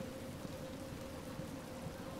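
Video-game rain falling indoors, a dense, steady hiss of drops with a faint low hum beneath, constant and unbroken throughout, with no voices.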